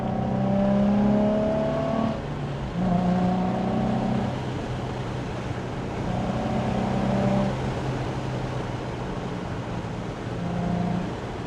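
A car driving along a road at moderate speed, steady engine drone with a few rises and falls as the throttle changes, heard from inside the vehicle without talk.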